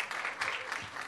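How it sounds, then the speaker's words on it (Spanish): Applause from a studio audience at a radio station's fifth-anniversary broadcast, a steady wash of clapping for just over a second without a pause. "Un aplauso para ellos"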